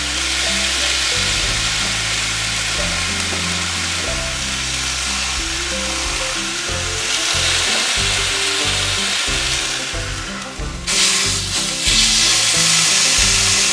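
Beef pot roast browning in a hot pan, a steady close sizzle and frying hiss running without a break, with a few clanks of a fork turning the meat near the end.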